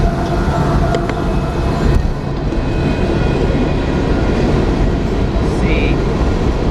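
Loud, continuous rumble and rattle of a train rolling past close by, heard from a bicycle at night, steady throughout with faint higher squeals.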